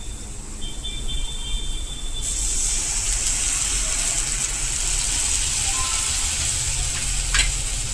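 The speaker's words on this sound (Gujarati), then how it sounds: "હવે તેમાં આપણે ચટણીની પેસ્ટ કરીને રાખેલી છે તે નાખી દેશું" Chutney paste hits hot oil and spices in a pan while cooking drumstick lotiyu shaak, and a steady, loud sizzle swells up and holds, close by.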